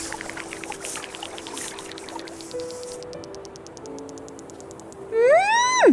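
In the video game Terra Nil, a water pump draws water from the ground with a soft pouring, trickling wash under gentle sustained tones, swelling louder at the end.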